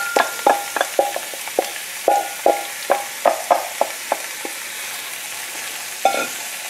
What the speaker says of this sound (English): So I am now adding the leek to the pan.